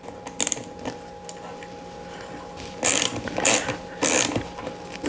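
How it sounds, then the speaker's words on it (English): A 9mm socket wrench ratchets on the screws of a Broan NuTone bathroom exhaust fan, giving three short, close clicking bursts near the end over a quiet room hum. "To take these guys out, you need a 9mm socket here."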